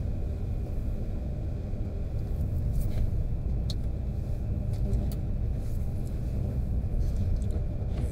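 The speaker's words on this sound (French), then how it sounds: "Allez, hop, un camion." A truck passes on a road in Sweden, a continuous low rumble of engine and tyres that holds steady and fairly loud throughout, with no talk.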